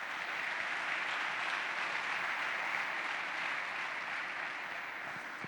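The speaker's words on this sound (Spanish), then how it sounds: "Denle un fuerte aplauso al Señor." A church congregation claps steadily and fairly loudly for several seconds, a dense, even wash of applause filling the hall without voices on top.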